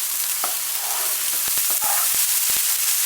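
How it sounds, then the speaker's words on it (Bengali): Coconut vermicelli (semai) being stirred in a pan with a sizzling, frying hiss, with a run of sharp scraping clicks from the spoon against the pan in quick succession, close and fairly steady. "আমি এখন ভালো করে নেড়ে নেব।"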